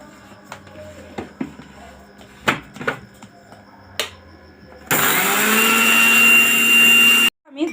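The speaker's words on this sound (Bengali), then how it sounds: "জিরাগুলো ভেজে দিয়েছিলাম, এরপর গুঁড়া করে নেব।" An electric grinder grinds roasted cumin seeds, starting with a loud, steady whir that runs for a couple of seconds and then cuts off abruptly, after scattered clinks and knocks of handling.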